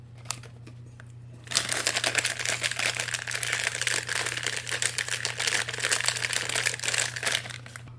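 Cellophane crumpled by hand to imitate the crackle of fire, a dense close-up crinkling and snapping that starts after a quiet second and runs on steadily over a low hum.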